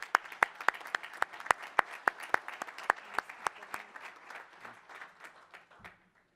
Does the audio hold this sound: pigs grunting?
no